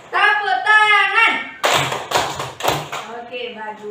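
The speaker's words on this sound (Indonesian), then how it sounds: "Tepuk tangan." Schoolchildren in a classroom chant along with their teacher and then clap their hands, a few loud, sharp clapping bursts in quick succession after the voices.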